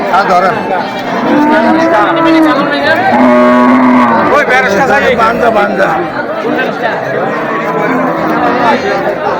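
Cattle low and moo repeatedly amid a busy crowd at a Qurbani cattle market, with people chattering and talking loudly nearby throughout.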